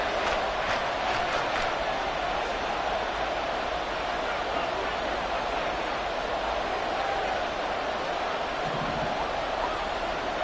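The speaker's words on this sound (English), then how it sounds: "This crowd doing all they can." A packed NFL stadium crowd roars steadily near the goal line during an Eagles versus Dolphins game, a loud, continuous wash of cheering that never lets up.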